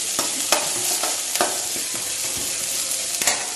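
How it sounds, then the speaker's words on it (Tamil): Ingredients being sautéed in a pan before tomato is added, for a drumstick-based immunity drink: a steady close sizzle with scattered scraping stir strokes throughout, no talking. "இது நல்லா வதங்கட்டும்"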